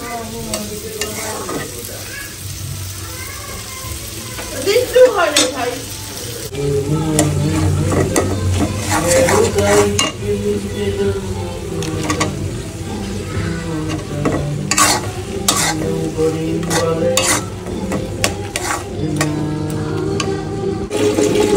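Prawns frying with tomato for chingri bhuna, a dense, loud sizzle with repeated spatula scrapes and clatters against the pan that grows busier after the first few seconds, close and continuous.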